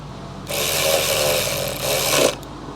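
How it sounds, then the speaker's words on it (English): A neighborhood lawn mower mowing grass drones in a steady, broad roar for about two seconds, rising suddenly and cutting off, fairly loud and close without speech over it. "I love the sound of somebody mowing the grass"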